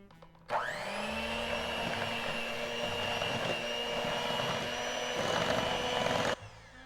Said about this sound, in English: We're going to use our hand mixer on low and mix everything until fully combined.